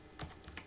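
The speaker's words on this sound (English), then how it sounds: "So I'm just going to type in" Keys on a computer keyboard clack in two short, separated bursts, entering a PHP file name on a WAMP setup; close and fairly quiet against faint room hiss.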